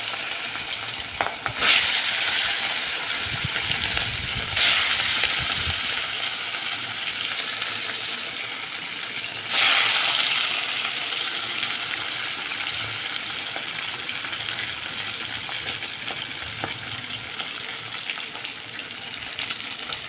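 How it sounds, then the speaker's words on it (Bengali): Fish sliding into hot oil, a continuous close frying crackle with a few sharper spits and pops as pieces hit the pan, steady and fairly quiet throughout. "তেলটা দেখতেই পাচ্ছ গরম হয়ে গেছে এবার আমরা তারপরে মাছগুলো ছেড়ে দিই"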